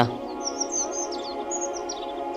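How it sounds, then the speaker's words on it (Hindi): A small bird, a sparrow, chirps in a rapid series of high, thin tweets over a faint steady background hum, fairly close and clear. "चिड़िया, उर्दू में चिड़िया, अरबी ज़बान में उसफूर, उसफूर।"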